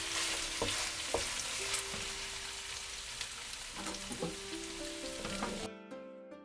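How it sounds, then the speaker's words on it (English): Sweet and sour pork ribs stirred in a pan with a tablespoon of vinegar, giving a steady close sizzle with faint scraping stir strokes and light clinks, ending in a brief cut to near silence. "Add 1 tablespoon vinegar and stir it for about a minute."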